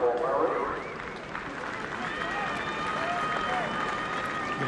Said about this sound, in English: Applause for Boise Nelson.